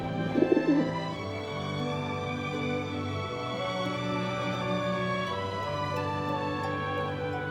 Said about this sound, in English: Later, Noah released a dove.